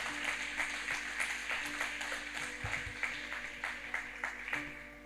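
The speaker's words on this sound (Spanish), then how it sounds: "ese aplauso es para él, porque no lo da un poquito más fuerte" Applause from an audience at a church gathering, a steady wash of clapping that holds for about five seconds at moderate, fairly distant level with no talk over it.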